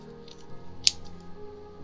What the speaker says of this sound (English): you're going to take your scissors and just cut around like this.